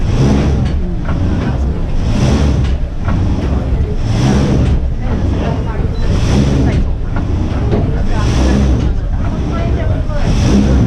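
An old frame saw cuts into a large pine tree with a steady, rhythmic rising-and-falling rasp, each stroke repeating roughly every two seconds, loud and continuous with a low rumbling background.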